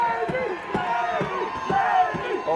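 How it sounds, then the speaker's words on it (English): The Navy crowd cheers at a wheelchair rugby game at the Department of Defense Warrior Games. Voices shout in a rhythmic chant with regular beats about every half second, and the sound stays steady and energetic throughout. "Oh, Navy crowd turning it up a notch."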